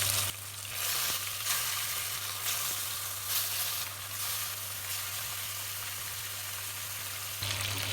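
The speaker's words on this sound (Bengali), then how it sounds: "তেল গরম হয়ে গেছে, মাছগুলো দিয়ে দেব।" Fish fries in hot oil in a wok: a loud, continuous crackling sizzle runs throughout, with brief surges and a low steady hum underneath, and no voices.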